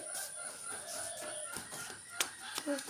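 Chickens at a coop give short clucks and a brief cry over a faint, hissy background, fairly distant and intermittent; a voice is heard faintly now and then.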